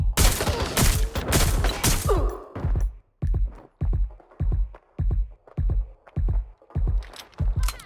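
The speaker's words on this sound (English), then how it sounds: "I'm taking fire!" Gunfire in the video game Watch Dogs Legion: a dense burst of overlapping shots gives way to a steady run of sharp, evenly spaced single reports, loud and close.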